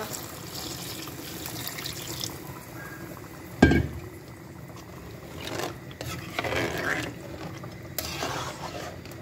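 Beef curry simmers in a pot as hot water goes in, a constant bubbling hiss with one sharp clank of a utensil partway through and a few splashy surges of liquid.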